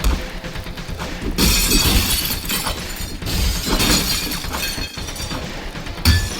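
In a video game, a glass window shatters in a loud, sustained crash of breaking glass, with repeated smashing bursts and debris over several seconds.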